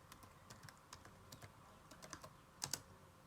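Someone enters a password on a computer keyboard during a Pop!_OS system update, producing soft, quick key clicks in an irregular sequence, faint and close, ending with a couple of firmer keystrokes.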